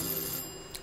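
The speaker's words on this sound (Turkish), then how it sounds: "Bu kapı böyle kendiliğinden çalıyor, sonra bozuluyor." A doorbell in a house that rings on its own and then breaks down gives a faint, brief ring over background hiss.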